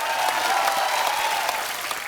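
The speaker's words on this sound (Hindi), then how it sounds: "जोरदार तालियां।" A big studio crowd claps continuously at The Kapil Sharma Show, welcoming cricket stars onstage; the applause stays full and even, then eases slightly toward the end, with no voices on top.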